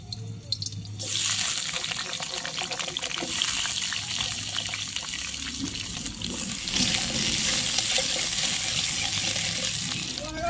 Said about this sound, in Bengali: তেল গরম হয়ে গেছে, এবার আলু দিচ্ছি ভেজে নেওয়ার জন্য।